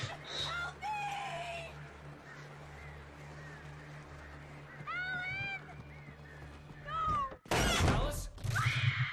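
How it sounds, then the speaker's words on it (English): Demon birds attack in the video game Alan Wake: shrill, swooping screeches rise over a low droning ambience, ending in a loud, harsh burst of noise, with a voice speaking in between. "Demon birds!"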